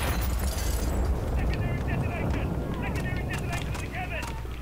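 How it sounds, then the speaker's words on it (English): A loud explosion in the Modern Warfare video game campaign rumbles as a steady, sustained roar throughout, with higher crackling and ringing debris tones layered on top. "you're just gonna sit through that whole explosion?"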